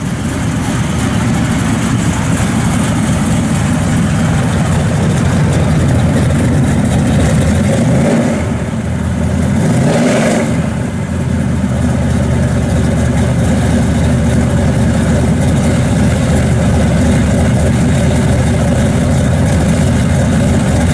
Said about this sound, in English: Got a nice sounding camshaft in it. Thing just thumps. Sounds real good out the back.